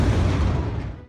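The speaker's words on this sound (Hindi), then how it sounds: "कदीम रिवायत के मुताबिक बाज़ इलाकों में इफ्तारी का ऐलान तोप दाग कर किया जाता है।" A single cannon shot fired to announce the iftar booms loudly and nearby, then rolls off into a short rumbling decay.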